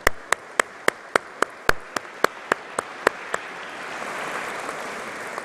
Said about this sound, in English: I think Benjamin deserves a huge round of applause as well